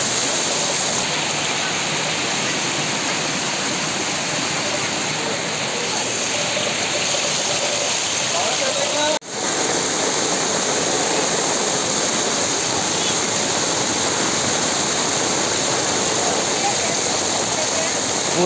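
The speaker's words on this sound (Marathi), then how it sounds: "पूर आलाय पूर." Heavy floodwater rushes steadily after days of heavy rain in a Maharashtra neighbourhood, a loud, continuous broadband roar with a brief dip midway, while voices talk over it.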